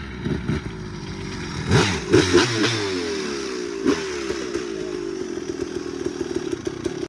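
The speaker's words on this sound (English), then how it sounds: "Ah, big dirt bike, big dirt bike." A big dirt bike engine revs nearby, with a steady buzzing drone broken by several sharp throttle blips and rising pitch sweeps, no voices present.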